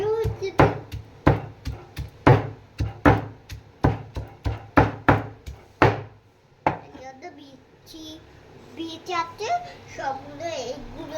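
Ridge gourd crushed on a stone grinding slab (shil), about a dozen heavy rhythmic thuds of stone on stone close by, followed by quieter scraping as a voice speaks.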